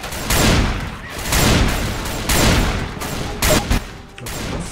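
Rapid bursts of gunfire from sniper and automatic rifles in the zombie shooter Left 4 Dead 2, loud and dense, with repeated volleys and booms filling the whole stretch.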